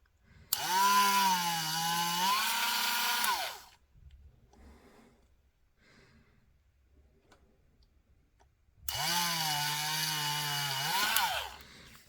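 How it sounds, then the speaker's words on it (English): A small handheld drill with a 2mm bit whines steadily into a plastic Land Raider Spartan model part, two sustained high-pitched bursts of a few seconds each separated by a quiet pause. "I can just go get my 2mm drill bit straight into it"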